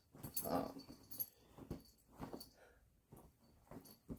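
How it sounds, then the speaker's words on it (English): A pet dog whimpers and whines in short excited bursts, fairly close and moderately loud, with faint jangling at moments and no speech. "before the dog goes crazy and knocks over my tripod because she is losing her mind over there"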